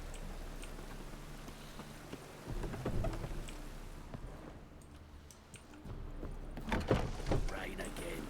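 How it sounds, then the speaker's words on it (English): Rain falls steadily in the video game The Witcher 3, and low rumbles of thunder swell twice beneath the patter. The storm is fairly quiet and distant in feel, with a few faint scattered knocks. "Rain again. Damn."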